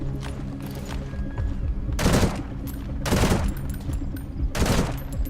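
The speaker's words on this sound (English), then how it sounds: "Why is he shooting?" Gunfire in Metal Gear Solid V: The Phantom Pain, with three loud bursts of rapid shots about a second apart over a low rumbling game background, no speech.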